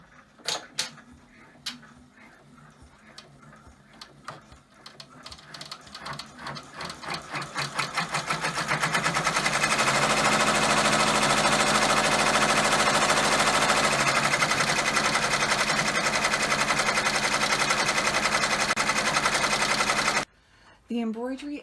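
An embroidery machine stitching a tuxedo shirt and lapels appliqué on a wine bottle apron, a fast steady mechanical needle chatter that builds to a loud continuous drone, then stops abruptly; a voice speaks at the start.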